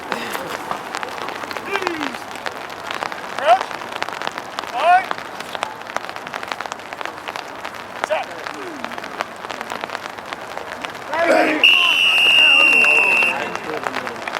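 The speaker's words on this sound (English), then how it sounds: "There's a big rain on the camera" Rain patters on an outdoor camera at a high school rugby match, a steady, close crackle of drops that carries throughout under someone talking and distant shouts.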